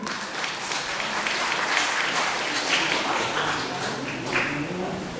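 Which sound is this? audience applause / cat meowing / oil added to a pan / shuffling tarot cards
audience applause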